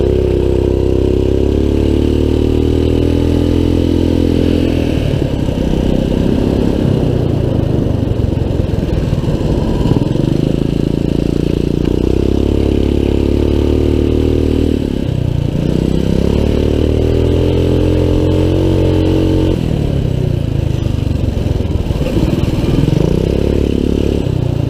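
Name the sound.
Trailmaster MB200 minibike engine during test ride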